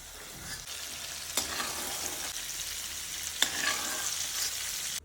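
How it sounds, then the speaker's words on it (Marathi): Two small bananas fry in ghee for sheera prasad, a close, lively sizzle punctuated by two sharp knocks of a spoon stirring against the pan. "छोट्या साईजची 2 केळी, एखाद मिनिटच तळायची"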